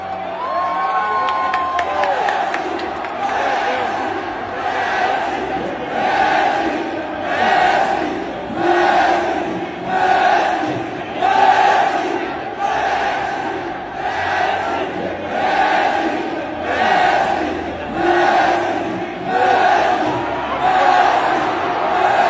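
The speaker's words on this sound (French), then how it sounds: "je vous laisse avec l'acclamation lorsque Messi est rentré, évidemment" A huge World Cup stadium crowd roars and chants as Messi comes on in Argentina's match against Jordan, with rhythmic waves of cheering swelling and falling in a steady, repeating chant pattern that fills the space.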